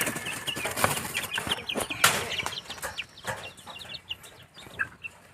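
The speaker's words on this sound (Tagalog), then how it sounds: "Ibon na manok." Pet chickens cluck and chatter while being fed vegetable scraps, a busy close flock with scattered soft calls and occasional wing flaps.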